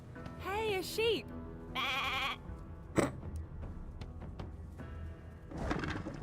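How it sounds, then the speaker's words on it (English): In the fantasy role-playing video game Divinity: Original Sin 2, a sheep bleats twice in quick wavering calls, followed by other game sounds and a brief sharp hit against a low ambient background. "Hey, a sheep."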